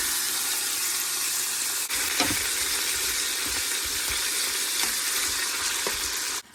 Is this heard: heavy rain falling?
no